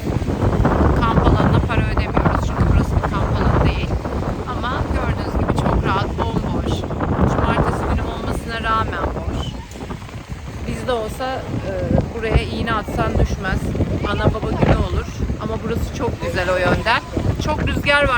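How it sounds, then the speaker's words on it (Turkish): Heavy wind buffets the microphone at a free campsite beside a towed caravan near Alexandroupolis, Greece, with a constant low roar and gusty rumble, while a person talks underneath throughout. "Biraz rüzgar var bugün"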